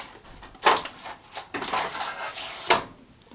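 A wooden drawer in a makeup storage unit slides open with a few soft, scraping clunks spread over a few seconds, close by and fairly quiet.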